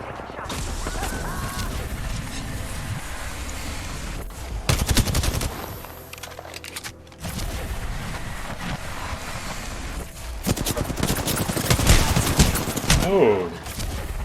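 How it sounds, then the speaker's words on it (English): Rapid gunfire in the battle royale video game Apex Legends: dense, close automatic bursts rattle almost continuously, with short pauses between volleys and a voice talking over the action. "The enemies are shooting at me."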